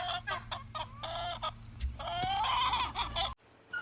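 Chickens cluck and call outdoors in their open run, a flock's overlapping, rising squawks and clucks heard close and fairly loud, ending with a short lull.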